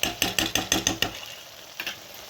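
A spoon scrapes rhythmically around a pan of gobi mealmaker kurma, about seven quick close strokes and then a couple of fainter ones over a quiet simmer.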